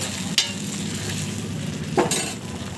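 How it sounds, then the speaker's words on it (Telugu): Vermicelli frying and being stirred in a pan for a festival sweet, with a steady close sizzle and the scrape and clink of a utensil against the metal at a couple of moments. "ఇప్పుడు మనం ఇది బాగా వేయించుకున్నాము సేమియా సేమియాని ఇందులో యాడ్ చేసుకోండి"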